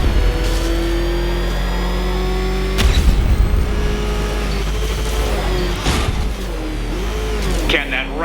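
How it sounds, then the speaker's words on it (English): Batmobile engine in the video game Batman Arkham Knight, a steady loud droning rumble with revving surges and sharp bursts, heard close alongside voices talking. "There's more to this test than just going vroom, vroom, really fast."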